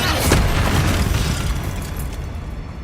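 A Confringo blasting spell goes off in the Hogwarts Legacy video game while fighting spiders in the Feldcroft catacomb, a loud booming explosion with a rumbling burst that gradually fades over a few seconds.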